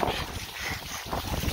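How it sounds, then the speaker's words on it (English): Strong wind at a lake front buffeting the microphone, a loud continuous roar with gusty low rumbling and no clear voices. "Wow, that was so windy."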